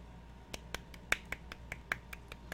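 Sharp, dry claps or snaps land singly at an uneven pace, about a dozen in all, close up and fairly quiet with no talking.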